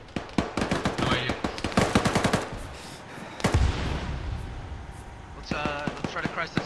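Gunfire in the military video game Arma 3, with rapid automatic bursts and scattered single shots, some near and some distant, mixed with intermittent talk over team radio.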